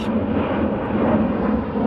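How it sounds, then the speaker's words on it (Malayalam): A Boeing 777-300 airliner on a Cochin flight roars steadily overhead, a constant engine rumble that stays loud and even from start to finish with no talk. "10 കൊച്ചിൻ ഫ്ലൈറ്റ്, ബോയിങ് 777-300"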